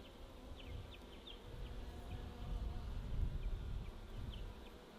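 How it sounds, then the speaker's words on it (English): Honey bees buzz steadily in an open hive, a dense, continuous drone close by with occasional sharper individual wing whines rising above it, no voices present. "That's a worker bee chewing herself out."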